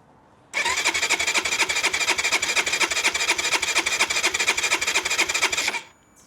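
The 125 cc engine of a Keeyway RKR 125 motorcycle is cranked by its starter, giving about five seconds of fast, even, chugging compression pulses that start and stop abruptly.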